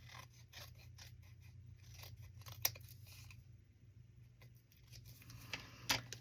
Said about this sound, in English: I am going to trim that. I see white cardstock sticking out.